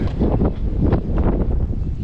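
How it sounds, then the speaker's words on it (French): Gusts of wind buffet a small boat with a failed outboard motor, a loud, continuous roaring rush that swells and eases in waves close to the microphone. "Il y a des coups de vent, putain, t'es propulsé sur le côté."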